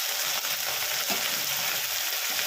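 Ginger garlic paste with tomato frying in a pan for a Bengali boal fish curry after a splash of water, a steady loud hiss of sizzling close by with faint stirring scrapes.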